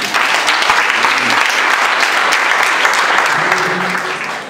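Guests at a school ceremony applaud warmly, a loud, steady crackle of many clapping hands that holds for several seconds before beginning to fade.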